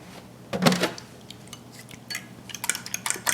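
Whisking one egg with a quarter cup of fat-free milk in a bowl, a quick burst of clinking strokes against the dish followed by lighter scattered taps and scrapes, fairly close and not loud.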